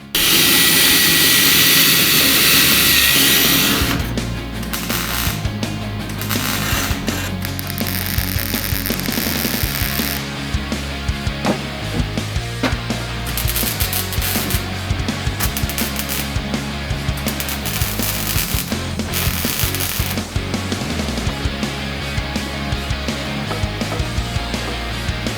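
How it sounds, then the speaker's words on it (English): A power wire brush strips high build primer from the trunk sheet metal of an AAR Cuda under restoration, a loud, harsh whirring grind that starts with a hissing burst, then runs steadily with rattling, gear-like chatter. "So Caesar took a wire brush and removed all the high build primer in and around the holes we made when we removed the spot welds."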